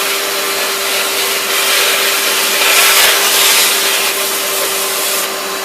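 A household vacuum cleaner rigged as a wet vac sucks hard through a bucket, producing a loud, steady airy roar with a constant motor hum, swelling slightly in the middle and running alone without voices.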